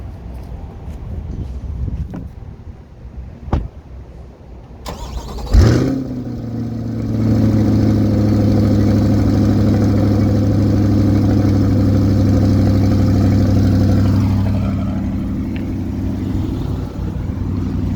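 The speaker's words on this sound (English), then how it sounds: "let's get a exhaust clip." A 2020 Chevrolet C8 Corvette engine fires up with a sharp startup flare, then settles into a loud, steady exhaust idle that swells with a rev and eases back down, heard close with no talking.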